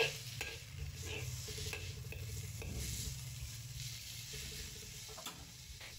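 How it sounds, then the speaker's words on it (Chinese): Napa cabbage stems stir-fried in a hot wok over high heat: a steady sizzle with rhythmic scraping and tossing strokes of the spatula, close and moderately loud, with no talking. "然后大火翻炒个5、6、7、8下。"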